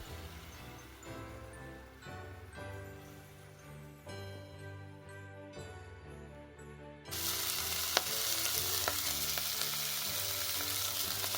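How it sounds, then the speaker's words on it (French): White wine poured into a hot pan to deglaze it, sizzling steadily under kitchen music, then breaking into a louder, continuous hiss about two-thirds of the way through. "Je viens déglacer ma préparation avec du vin blanc qu'on peut bien sûr remplacer par de l'eau."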